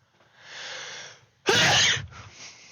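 A soft intake of breath followed by one sharp, loud sneeze, close up, then quiet.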